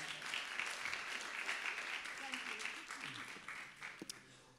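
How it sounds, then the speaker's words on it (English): A crowd applauding steadily, clapping that fills the space and begins to thin toward the end, with some voices murmuring underneath. "Can we have a big round of applause for Cassie, please?"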